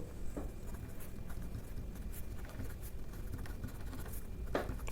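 Chalk or marker scratching across a board as angles are written out, soft irregular strokes and taps under a steady background hiss, no talking.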